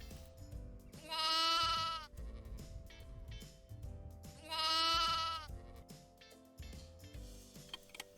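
Sheep bleating twice, each a loud, wavering call lasting about a second, set against a faint ticking background with no talk.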